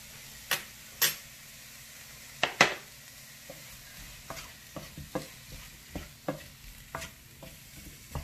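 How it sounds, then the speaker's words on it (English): Tomatoes and spices are stirred in a cooking pot, giving a soft steady sizzle broken by sharp spoon scrapes and clinks against the pot, close and fairly quiet, with no speech. "Stir it together."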